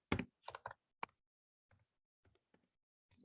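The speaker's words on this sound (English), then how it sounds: "and then just type" Keys on a computer keyboard clatter in a quick flurry of taps, then trail off into sparse, quieter single keystrokes close by.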